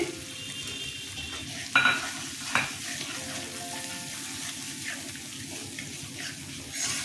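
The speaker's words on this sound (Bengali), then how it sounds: "ভালো করে কষিয়ে নেব।" Spiced yogurt gravy with coriander and cumin powder frying and being stirred in a pan for lentil fritter curry, a steady soft sizzle with a couple of sharp utensil clinks near the start, no talking.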